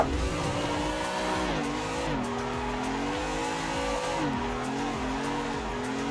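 A race car drifts in a racing simulator game, its engine droning and rising and falling in pitch as the tires squeal through repeated slides, loud and continuous with no talking.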